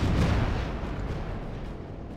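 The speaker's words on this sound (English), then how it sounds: "All guns, USS Indiana, fire." Naval guns of the battleship USS Indiana fire a volley in the Battlestations Pacific video game off Guadalcanal, a heavy low rumbling boom that decays over a couple of seconds.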